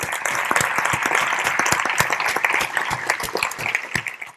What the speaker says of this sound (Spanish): Yo creo que os podemos aplaudir